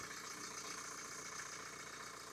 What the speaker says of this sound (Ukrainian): Прислухайтесь, як працює двигун.